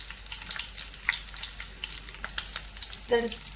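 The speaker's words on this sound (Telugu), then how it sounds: "కరివేపాకు ఉల్లిపాయ వేసేసి తాలింపు పెట్టేస్తాం" Curry leaves and onion tempering crackling in hot oil for a bottle gourd curry, a soft steady sizzle with scattered pops and a brief stir near the end, heard up close without talk.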